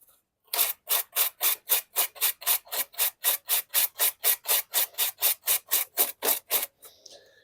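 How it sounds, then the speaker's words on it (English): Toyota Highlander brake parts get scrubbed with a brush in about twenty quick, evenly spaced rasping strokes, loud and close, roughly three per second, then the strokes stop. "just kind of giving it a good brush."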